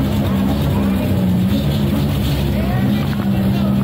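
A Maverick V8 347 stroker race car engine idles with a deep, steady, rumbling drone, close and loud throughout.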